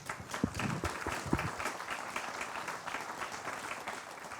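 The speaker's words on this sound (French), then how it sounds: "je vois le député Jean-Yves Collet qui applaudit particulièrement chaleureusement" Conference audience at a national biomass colloquium applauding, a fairly faint, continuous patter of many hands with a few sharper nearby claps early on.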